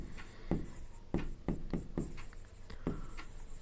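Pen strokes scratching on paper while a math solution is worked out by hand, several short distinct scrapes in an uneven rhythm, close and clear over a steady background hum.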